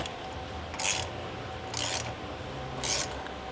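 A hand ratchet snugs recovery tow point bolts on a Toyota LandCruiser LC300, three short bursts of close clicking spaced about a second apart over quiet background hum.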